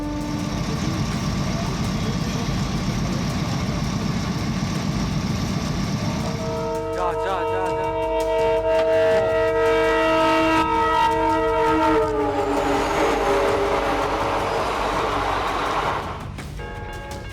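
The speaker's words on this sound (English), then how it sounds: "A train rumbles through the snowy forest. The train whistle warns the deer" A train rumbles past through a snowy forest with a low steady roar, then a long multi-tone horn blasts twice, loud and close, before fading back into rolling noise.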